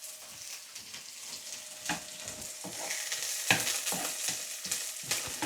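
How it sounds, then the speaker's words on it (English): A soft, steady sizzle of a medium onion frying in a pan, with occasional scraping and stirring clicks, heard close up with no talking. "Just going to fry this until it's soft"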